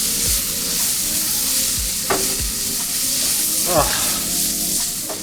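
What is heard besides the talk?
cabbage frying in pan with salt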